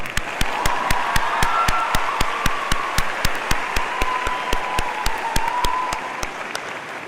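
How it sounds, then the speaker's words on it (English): An audience at the Christian Brothers High School graduation ceremony gives sustained applause. It is a broad, full wash of clapping with a steady rhythmic beat of claps running through it, fading slightly near the end. "Round of applause."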